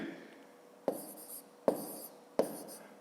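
Pen or chalk strokes writing out numbers for a long-division problem, three short bursts of scratching separated by brief pauses, close and fairly quiet with no talk.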